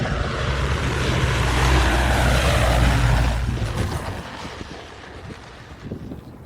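A small aircraft lands on an Alaskan airstrip with a loud, broad rushing roar of engine and wind that eases and thins out partway through.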